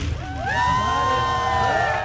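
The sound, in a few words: crowd cheering at museum ribbon cutting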